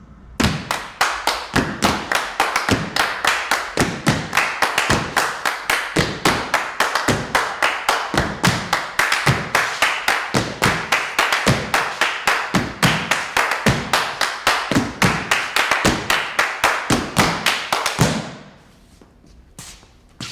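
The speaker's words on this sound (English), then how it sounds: "they stomp and clap and pat and use everyday objects as percussion, like this" Stomp-style body and object percussion drives a fast, steady rhythm of stomps, claps, pats and hits on everyday objects, loud and close for about eighteen seconds before stopping abruptly into near silence.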